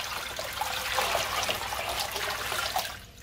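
Water in a home aquarium tank swished gently by hand, a steady close wash of splashing and trickling that continues throughout before fading at the end.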